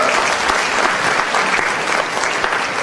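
An audience applauds continuously, a dense, loud wash of clapping that fills the whole moment without a break.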